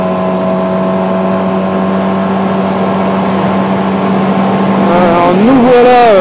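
A 2013 Yamaha T-MAX 530 scooter engine drones at a steady pitch, then revs up and accelerates with a rising whine toward the end, loud and close.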